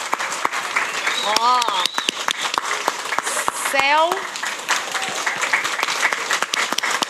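Applause breaks out for participating schools at a public event, a broad wash of clapping across the whole stretch with a voice speaking over it and a couple of bright tonal chirps near the start.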